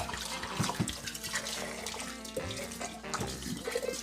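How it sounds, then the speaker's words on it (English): Hot water being poured into glass jars to sterilize them for pickles, with splashing and gurgling liquid filling the jars and glassy ringing tones, continuous and close. "now we're gonna take this hot water and just pour it in, because we're just trying to sterilize them"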